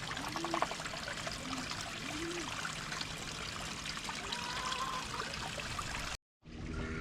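Water splashes and trickles steadily from a newly replaced pond pump outdoors, a continuous close rushing flow that stays even before cutting out abruptly near the end.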